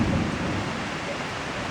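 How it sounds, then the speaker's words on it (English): A thunderstorm with heavy rain makes a loud, steady roar, with a low rumble of thunder fading at the start and nearby wind noise on the microphone. "another storm"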